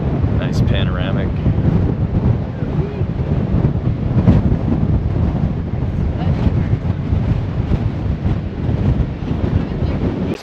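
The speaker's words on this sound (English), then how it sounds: "It's a little breezy right now" Strong breeze in the Oregon Cascades rushes steadily over the microphone, a continuous buffeting roar with no break throughout.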